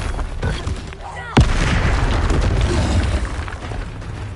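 Spell blasts from Confringo and Incendio in the PS5 game Hogwarts Legacy: a sharp booming impact near the middle, then a continuous roaring, crackling rumble of fiery energy that fills the rest.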